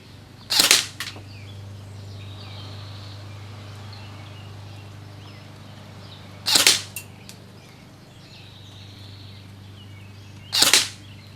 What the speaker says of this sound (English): So we're going to fire 3 more.